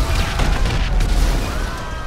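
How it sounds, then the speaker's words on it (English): Explosions from the video game GTA 5 rumble as a dense, continuous low boom with scattered bursts, steady and moderately loud throughout. "explosions"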